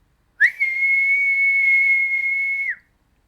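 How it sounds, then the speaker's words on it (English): A person whistles one steady, clear, sustained note for a bit over two seconds, close and alone with no talking, starting and ending sharply. "I'm bad at whistling."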